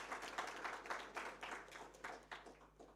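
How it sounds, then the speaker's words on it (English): An audience at a summit claps in a loose, moderate burst of applause that swells and thins in uneven waves, fairly faint and heard from a distance. "Could we have another loud round of applause for Dr. Hanif Qureshi, sir?"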